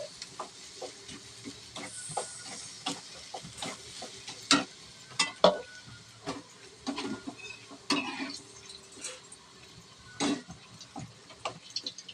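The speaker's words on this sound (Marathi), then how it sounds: "ग्रेव्हीला कड आलेला आहे, आता उकळी आली" Gravy for banana kofta bubbles and simmers in a pan, giving soft irregular pops and ticks over a low hiss, fairly quiet and close, with no talking.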